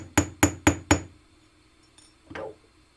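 A hammer strikes jewelry wire four times in an even, quick rhythm, each sharp metallic tap ringing briefly, followed by a faint clink and a softer knock after a pause.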